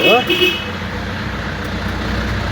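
A car rolls along a road near Sukabumi, a steady broad wash of tyre and engine noise that holds throughout, with a short voice and a faint toot-like tone right at the start.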